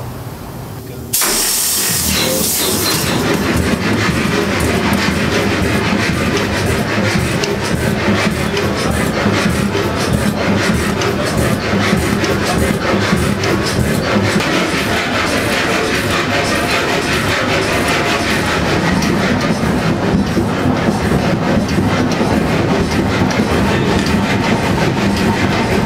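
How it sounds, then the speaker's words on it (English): The engine of the historic tugboat Arthur Foss bursts into life with a loud chuff after the starting lever is pulled, then settles into a dense, steady, rapidly pulsing run that fills the space at close range. "pull the starting lever until it goes chuff,"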